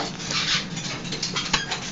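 Two puppies whimpering in a small painted cubby hole in a home also housing parrots, soft high whines and faint rustling scuffs at close range, fairly quiet with no talk.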